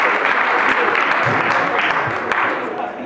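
An audience at a comedy roast claps steadily and loudly for about three seconds, the dense applause tapering slightly near the end, with voices mixed in.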